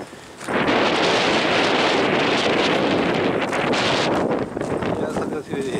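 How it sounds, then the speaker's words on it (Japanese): Strong wind roars steadily against the microphone at the Aoyama Kofun, a round burial mound in the Furuichi tomb group. The rush starts abruptly, then stays loud and broad with gusty buffeting until it eases near the end. "いや、風が強いね。 すごい風が。"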